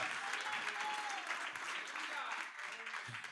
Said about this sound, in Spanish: ¿Cuántos le dan palmas de alabanza al Señor?